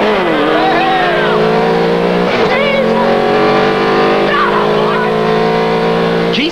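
Volkswagen Beetle race cars at Avon Park, including a 450-horsepower American racer, roar continuously and loudly close by with revving engine pitch sweeping up and down.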